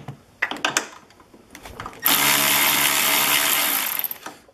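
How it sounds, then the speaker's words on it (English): A 13 mm wrench works a motor mount bolt on a Ski-Doo G4 snowmobile, giving a steady, rasping ratchet-like whir for about two seconds after a few scattered knocks and clicks nearby. "So the first thing you want to do is loosen that bolt."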